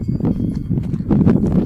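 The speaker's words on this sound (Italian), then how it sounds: "Cavalli, no mucche?" Horse hooves clip-clop at a walking pace on a mountain hiking trail, several quick close knocks overlapping in an uneven rhythm, with no voices.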